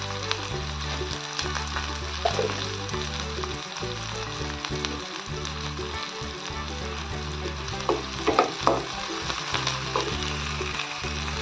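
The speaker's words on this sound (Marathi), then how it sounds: "एक छोटा चम्मच मोहरी त्यात आपण चिरलेला एक मिडियम आकाराचा कांदा त्याला छान परतून घेऊया" Chopped medium onion sautéing in oil with cumin and mustard seeds, a steady close sizzle with occasional stirring scrapes and crackles throughout.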